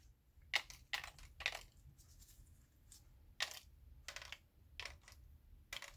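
Small tablets drop one by one into the compartments of a blister card, giving a series of sharp, light clicks at an irregular pace in a quiet room.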